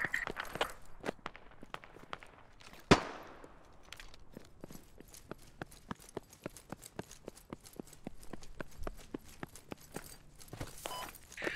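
Gunfire in the military video game Squad, one loud nearby shot followed by many sharp distant single shots in irregular succession, with no talking.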